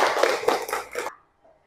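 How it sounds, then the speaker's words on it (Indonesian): Brief burst of clapping from a classroom audience of students, roughly a second of hand claps that stops abruptly and leaves near silence. "Tepuk tangan."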